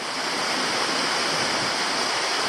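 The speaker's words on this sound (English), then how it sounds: "the creek keeps cascading down to meet up with the Slippery Creek" Creek water cascading over rocks near Pelverata Falls in Tasmania, a steady, close, full-bodied rush that holds constant throughout with no voices.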